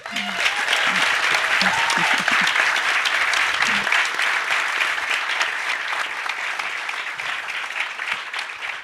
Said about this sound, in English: a massive round of applause, please